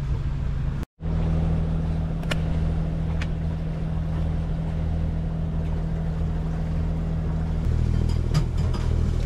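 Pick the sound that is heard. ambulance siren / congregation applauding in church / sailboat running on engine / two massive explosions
sailboat running on engine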